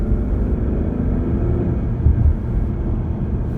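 A 2016 Ford Mustang V6 engine drones as a low, steady rumble heard from inside the car while driving, with a slight swell partway through and no talking.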